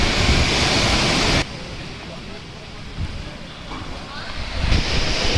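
Ocean waves rolling in at Kola Beach with strong wind buffeting the microphone, a loud continuous surf wash that briefly drops lower before surging back.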